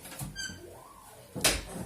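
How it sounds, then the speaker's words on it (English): A door creaks as it is closed, giving a short rising and falling squeak in a quiet room, followed by a brief louder bump, with no talking. "so I'm going to close my door"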